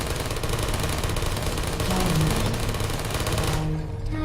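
Rapid automatic fire from a turret in the video game Portal, a dense continuous rattle loud and close throughout, easing off near the end with a faint tonal hum left.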